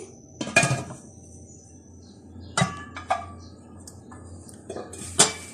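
A metal lid set over a cake pot resting on a stand for stovetop baking, giving a few sharp clanks and clinks spaced through the quiet, the loudest at the start and near the end.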